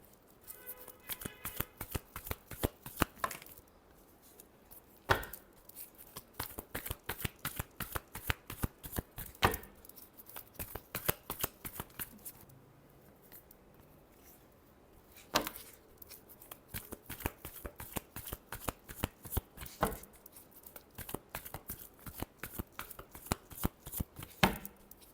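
Tarot cards are shuffled by hand in steady, rapid riffles and slaps, close and crisp, with brief pauses between rounds and no voice over them.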